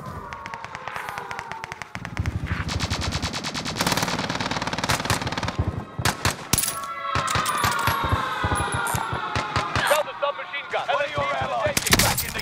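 Gunfire in Call of Duty: Modern Warfare, with rapid automatic bursts and sharp single shots crackling loudly across the whole stretch, dense and continuous, broken by brief pauses and heavier booming impacts.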